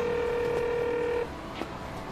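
Telephone keypad tones, a steady electronic dialing beep held for about a second, then a quieter hum with a faint click, no voices.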